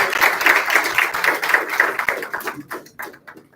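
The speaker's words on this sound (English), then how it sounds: "A big round of applause" An audience at an inter-university strategy competition gives a short burst of clapping at an awards announcement, dense at first and thinning into scattered claps over a few seconds.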